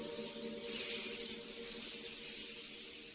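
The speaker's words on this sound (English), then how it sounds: "I spray my perfume." Perfume spritzed from a bottle in a bathroom, a steady airy hiss of spray lasting a few seconds at close range, with no talking.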